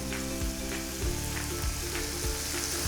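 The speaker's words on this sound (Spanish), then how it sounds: "Ya tengo mi aceite caliente. Les voy a sofreír hasta que veo que cogen un color" Food sautéing in hot oil until golden, a dense close sizzle with a humming tone underneath and soft periodic scrapes from stirring, steady and without speech.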